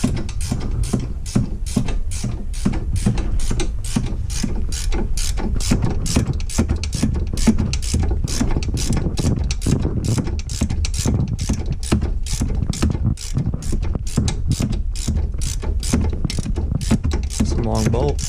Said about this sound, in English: Just using a Allen and a ratchet wrench to tighten these sway bar end links.